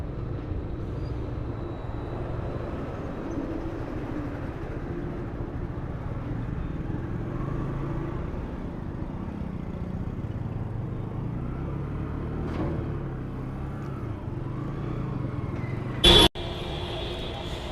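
A bike taxi motorcycle rides through city traffic, its engine and road noise forming a steady, close, continuous rumble, with a brief sharp electronic blip near the end.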